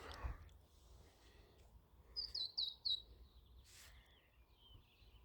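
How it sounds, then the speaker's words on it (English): Several short bright chirps from a bird in an outdoor garden come in a quick burst midway, at a moderate distance over a quiet background with no speech. "The birds are singing."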